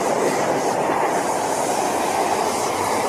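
A toy high-speed train rumbles with a steady, loud whir and clatter that fills the moment without pause, and no voices are heard.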